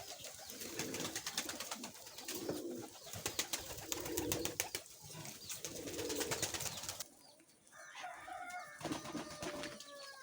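Molting pigeons cooing at close range on an evening in late August, a series of soft, throaty coos repeating every second or two, with a brief quieter gap before the calling resumes.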